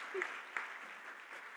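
An audience at an EU programme award event applauds a winning school project, a faint, distant and steady patter of clapping with a voice briefly heard over it.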